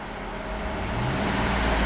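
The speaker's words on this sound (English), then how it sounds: "I'm going to rev the engine" A black 2012 Cadillac Escalade Premium SUV's engine revs while running, a steady broadband roar that swells gradually louder across the moment, close and continuous with no talk.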